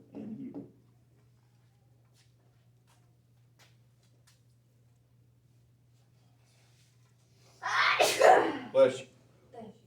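A single loud sneeze bursts out near the end, preceded by a short vocal sound at the start and long near-silence with a low steady hum.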